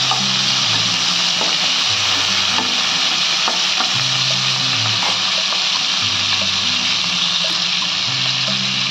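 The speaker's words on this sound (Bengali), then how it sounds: "তবে এটা আমি হালকা করে একটু ফ্রাই করে নেব।" Ingredients for chicken changazi fry lightly in a pan over medium heat, giving a steady, loud sizzle with stirring scrapes throughout and no talking.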